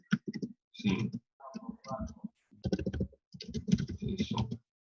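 Typing on a computer keyboard, close and clear, in several quick bursts of key clicks separated by short pauses.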